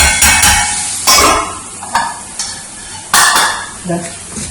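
Cauliflower frying in a pan, with a spatula scraping and clanking against the metal in several sharp bursts over a soft sizzle, close by and without talking.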